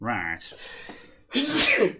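A single loud, forceful sneeze bursts out right after a person says a short word.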